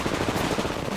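A burst of rapid gunfire from a battle royale shooter game rattles out close and loud, a quick string of shots packed into about a second.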